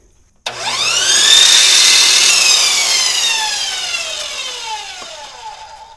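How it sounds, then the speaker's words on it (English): A saw bites into a wooden board being cut to length, producing one sustained, loud, rasping cut with a whining tone that slowly falls in pitch as the blade works through the wood. "we're actually going to cut two boards at 23 1/8 length"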